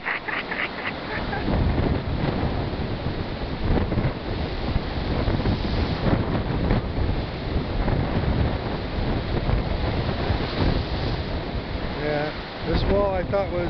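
Wind and ocean surf on the shore at Cha Am, Thailand: a steady, loud roar of breaking waves and gusting wind buffeting the microphone throughout, with a faint voice near the end.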